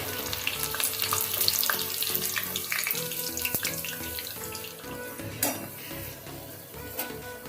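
Semolina luchi puris fry in hot oil in a kadai, giving a steady, close sizzle full of crackling bubbles and spatters, with a few sharper pops along the way.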